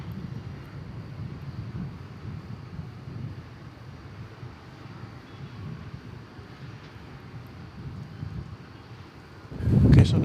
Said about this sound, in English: This was Flight 1383 arriving from Memphis. Just gonna pull right in there, isn't it?